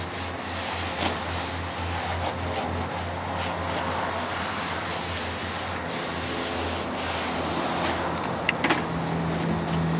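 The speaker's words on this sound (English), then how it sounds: "Now with the brush and by hand, I could start spreading the rest of this one on." Paintbrush spreading green paint by hand over a surface; a steady, close, scratchy rubbing and brushing that goes on without pause and without talk.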